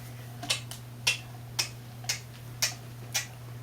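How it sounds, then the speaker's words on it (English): A mysterious, catchy ticking from a puppet comedy sketch: sharp, evenly spaced ticks about twice a second over a low steady hum, close and clear with no talk. "What is this mysterious ticking noise?"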